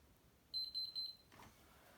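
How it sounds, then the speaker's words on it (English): A Zanussi washing machine gives three short, even electronic beeps in quick succession as it enters service mode, faint and clean against a quiet room, followed by a soft click. "keep holding these for 4 seconds until you hear 3 beeps"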